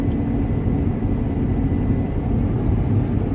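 A combine harvester fitted with a newly installed straw chopper runs at wheat harvest, giving a steady loud low engine drone and broadband roar, close and unbroken with no talk.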